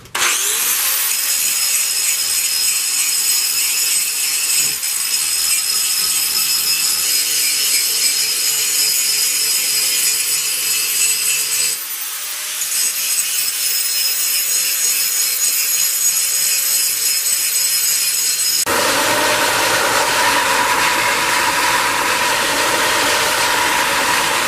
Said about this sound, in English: I tacked them together so that I can grind them all to the same shape